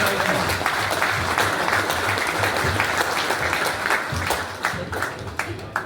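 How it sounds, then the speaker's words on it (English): A club crowd applauds steadily through a speech event, dense clapping holding at an even level before thinning slightly toward the end, with voices faintly underneath. "Give yourselves a round of applause."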